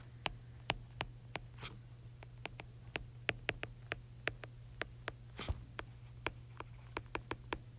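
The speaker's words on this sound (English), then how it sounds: "So I'm going to write that question." Pen or pencil scratching out a handwritten question, about twenty short, crisp strokes in an irregular rhythm, close up and quiet over a low steady hum, with no talking.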